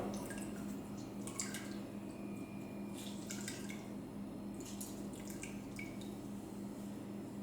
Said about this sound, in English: we cut a lemon in half and squeeze it in the water.